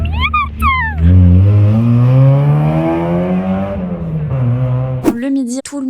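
Cars rev hard at a car meet, one engine climbing in a long, loud rising roar before falling back, with brief sharper revs at the start and end and nearby voices in the background.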